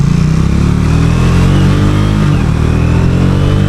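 A Triumph Speed T4 motorcycle engine revs hard at highway speed above 100 km/h, a loud, sustained droning roar with the pitch climbing steadily and wind rush mixed in.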